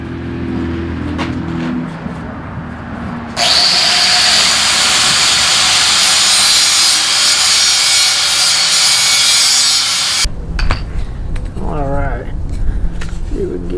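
Power tool grinding a metal grill spatula: a loud, harsh high-pitched grinding screech that starts abruptly after a few seconds and runs steadily for about seven seconds before cutting off, with someone talking before and after.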